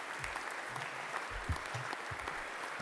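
Applause added to a podcast episode: a crowd claps steadily throughout, a dense, even patter of hands at moderate loudness with no talk over it.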